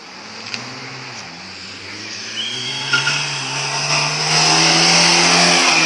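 Rally cars racing at the Kärdla rahvasprint 2016, an engine revving and rising in pitch as the car approaches, with tire squeal and a swelling roar that grows louder toward the end.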